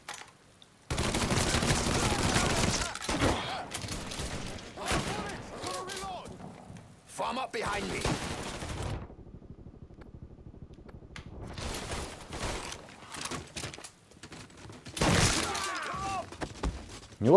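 Rifle gunfire in the Mafia 3 video game on hard simulation mode: loud bursts of rapid shots separated by quieter gaps, echoing and close, with a player's voice speaking faintly in places.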